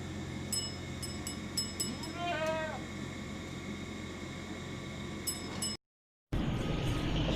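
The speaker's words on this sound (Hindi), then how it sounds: "ये मेरे पास बकरी है मक्की चीनी प्योर" At a livestock market in Karachi, a goat gives a single short wavering bleat. It stands out against background noise and faint clinking, with a brief cut to silence near the end.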